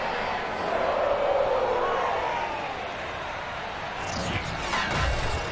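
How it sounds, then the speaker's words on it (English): Stadium crowd in the Madden 23 football game, a sold-out Cincinnati crowd giving a broad steady roar of cheering throughout, fairly loud, with some rougher bursts of noise near the end. "The enthusiasm of this Cincinnati crowd in full effect a moment ago"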